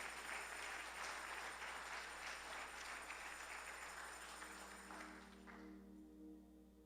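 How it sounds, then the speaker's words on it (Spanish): A church congregation breaks into sustained applause at a Spanish-language sermon, a dense roar of clapping that holds steady, then fades away over the final second or two into a quiet room hum. "¿Por qué no le das un aplauso a Dios?"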